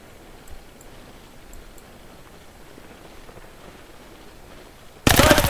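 SMG fire from an assault team in the WWII game Gates of Hell: Ostfront, a sudden loud, close burst of rapid shots that erupts at the very end after several seconds of quiet background.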